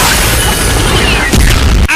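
A loud, heavy RPG rocket explosion booms out over dense film battle noise, followed by an abrupt cut and rumbling aftermath.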